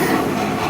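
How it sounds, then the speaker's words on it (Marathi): A Pune metro train running, a brief, steady, loud rumble of rolling wheels heard from close up. "मेट्रोचा प्रवास केला"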